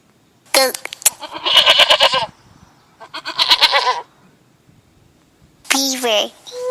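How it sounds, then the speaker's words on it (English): A goat bleats in three loud, close, wavering calls separated by short silences. "Goat."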